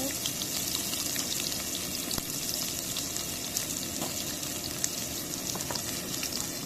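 Onion and garlic fry in a pan for a dried-fish curry, giving a steady, even sizzle with faint crackles and pops throughout. No one speaks.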